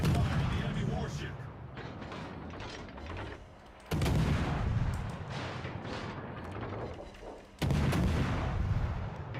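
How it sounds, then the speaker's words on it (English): Naval artillery from warships in the game World of Warships: two loud, sudden booming salvos over a steady rumble of battle noise, each blast followed by a sustained roar. "Concentrate fire on the enemy warship"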